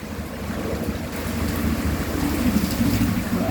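Heavy rain pouring down in a short intense burst, a dense continuous hiss of falling water that grows slightly louder as it goes, with no voices over it.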